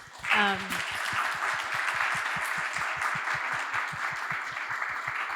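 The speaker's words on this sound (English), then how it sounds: "So I hope we can give him a round of applause." Crowd applause, steady and fairly loud, with a brief rising tone near the start before the clapping settles into a continuous wash.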